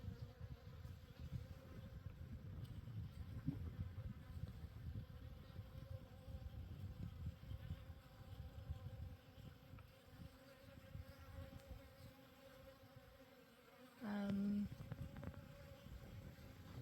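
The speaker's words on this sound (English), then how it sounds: "I like bees, but this is a lot." A swarm of bees buzzing around a desert campsite, a faint, steady drone of many insects lasting throughout with a brief louder sound near the end.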